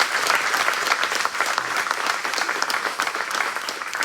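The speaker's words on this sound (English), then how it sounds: "Can we give him a round of applause," Audience applause at a community event, a dense sustained clapping from a crowd that holds steady and close for a few seconds before easing slightly.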